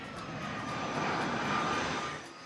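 An American Airlines jet arriving from Miami roars overhead at an airport, a loud, broad engine rush that swells and fades over a couple of seconds with no talking.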